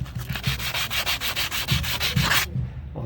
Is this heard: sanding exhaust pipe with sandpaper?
yes